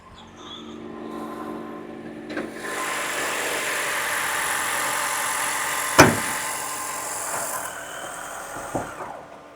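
A Maruti Suzuki Invicto's 2-litre petrol strong-hybrid engine runs under the open hood with a steady close hum that swells and fades as it switches on and off, marked by a sharp click midway.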